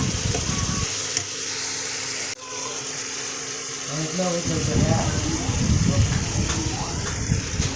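Bitter gourd sautéing in hot oil, a steady sizzle with stirring scrapes that grows denser and louder in the second half, close up with a voice talking over it.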